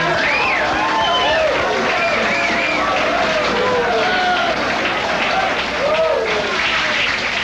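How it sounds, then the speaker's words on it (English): Studio audience on a 1983 talk show applauding for a guest, a dense, steady wash of clapping that holds loud throughout while a voice talks over it. "Give her a little round of applause."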